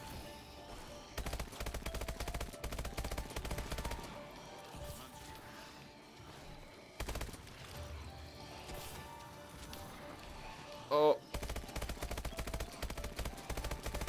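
Rapid bursts of automatic gunfire and pistol shots in Advanced Warfare Exo Zombies, dense and continuous, with brief pauses and a sharp blip near the end, moderately quiet mixed game sound.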